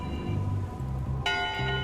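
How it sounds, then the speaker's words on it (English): Church-style bell chimes ring out in a point-and-click adventure game, Return to Monkey Island, a clear struck tone entering midway and sustaining with bright ringing overtones over low background game music. "That's not an official bell signal."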